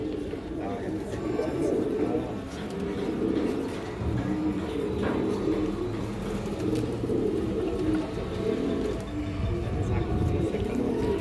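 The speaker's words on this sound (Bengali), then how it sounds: "নটটা দেখেন দর্শক মোটা নাকের কবুতর" Pigeons of an old breed at a pigeon farm coo steadily in a dense, overlapping chorus, while someone talks over the flock throughout.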